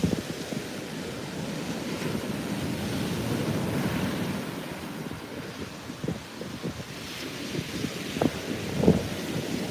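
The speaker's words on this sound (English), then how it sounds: "I could just sit and stare at these waves for hours" Ocean waves on a beach roll and wash in a steady surging roar, with wind buffeting the microphone and a louder crash near the end.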